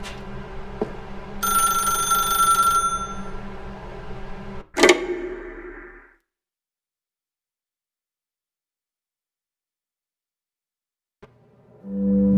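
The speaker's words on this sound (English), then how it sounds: "Now pick up the phone, said the bucket." Telephone bell ringing in The Stanley Parable: Ultra Deluxe, a bright electronic ring lasting a couple of seconds over a low hum, then a sharp knock and a long stretch of silence.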